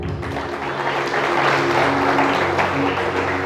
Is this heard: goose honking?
no